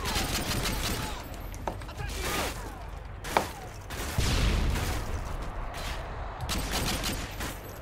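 Gunfire from the Call of Duty MW2 video game: rapid bursts and single sharp shots crack over a continuous, noisy battle backdrop, with one especially loud report near the middle and a speaking voice mixed in.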